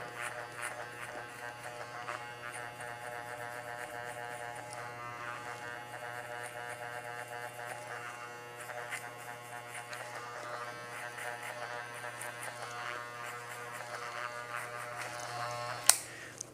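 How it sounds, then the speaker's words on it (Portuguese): Electric hair clipper cutting a high fade at a barbershop, a steady close buzzing hum that runs throughout with faint changes as the blade moves through the hair and a small click near the end. "Se você estiver passando a máquina e a marca não sair, é porque você precisa baixar a alavanca"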